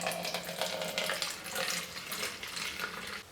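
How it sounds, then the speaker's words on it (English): Salt water, mixed for a dreadlock sea salt spray, is poured into a spray bottle, making a steady broadband trickle and splash that runs close and continuous for the whole stretch with no talking. "I can put my salt water into my spray bottle"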